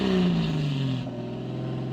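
Toyota 1JZ engine in a car revving hard, a loud close-up engine roar that drops from high revs and settles into a steady, throbbing idle-like drone, with no talking.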